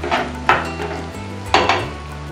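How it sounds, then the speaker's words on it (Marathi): Finely chopped onions, three medium ones, stirred in a pan for a Koli-style chicken sukka, with a couple of sharp utensil scrapes and knocks over a steady low cooking hum, close and fairly loud. "परतून घेऊया, याला सोनेरी रंगापर्यंत आपल्याला परतून घ्यायचा आहे।"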